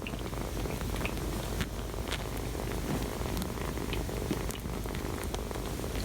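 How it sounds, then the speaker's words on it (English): A kitten purrs close up in a soft, continuous rumbling drone, with small scattered clicks and rustles riding on top. "Yes, the purring sound is quite clear."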